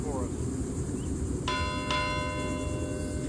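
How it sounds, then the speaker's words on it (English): A ship's bell is struck twice at an outdoor memorial rededication ceremony, two clear ringing strikes about half a second apart over a steady background hum. "2 bells marks the end of a routine day aboard the ship."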